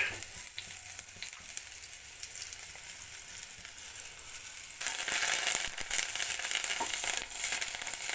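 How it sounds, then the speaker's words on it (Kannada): Tempering spices for avalakki khara, flattened rice with curry leaves and dry chillies, sizzle in hot oil in a wok; a softer frying hiss jumps to a louder, crackling burst midway with light stirring clicks. "ಅದಕ್ಕೆ ಒಂಚೂರು ಒಗ್ಗರಣೆ ಹಾಕೋಣ ಅಂತ"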